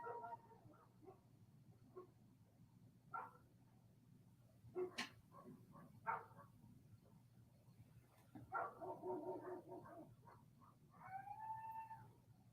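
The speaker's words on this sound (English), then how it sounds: "Can you hear the coyote howling?" Coyote howling and a dog barking far off outdoors, faint yips and wavering howls scattered over a low steady hum, with a drawn-out rising howl near the end.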